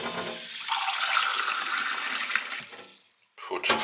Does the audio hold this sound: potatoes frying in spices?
no